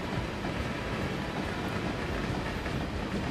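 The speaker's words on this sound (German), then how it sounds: "So, hier wird der Holzzug beladen." Timber freight train running in the Transport Fever 2 video game: a steady, moderately loud rail rumble with soft clickety-clack from the wheels, continuous throughout and without any voices.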